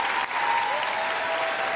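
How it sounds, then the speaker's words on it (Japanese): Arena crowd at a figure skating competition cheering and applauding for a home-country skater, a steady roar of clapping and cheers with a commentator's voice faintly audible over it. "より一層の歓声が飛んでいます。"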